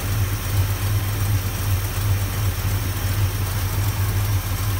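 A big block Dodge Dart engine fitted with an Edelbrock 650 carburetor idles steadily up close, a deep continuous rumble with an even, loping pulse throughout and no voices.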